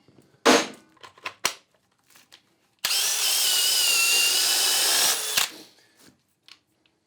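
Cordless hammer drill boring into material in one sustained loud burst of a couple of seconds, preceded by a few sharp clicks and knocks, close up with no talking.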